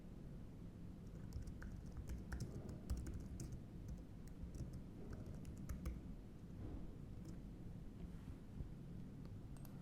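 Computer keyboard typing, a steady run of soft key clicks at close range over a low background hum, with no voices.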